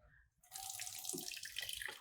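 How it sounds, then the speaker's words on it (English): Cold brew coffee pours from the spigot of a commercial brewer into a graduated container, a steady close splashing trickle of liquid that starts abruptly and runs on evenly with slight gurgles. "We're gonna open the spigot."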